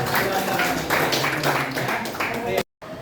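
An audience claps together at a teachers' coaching session in an Indonesian high school classroom, a dense, steady round of applause lasting a few seconds before cutting off abruptly.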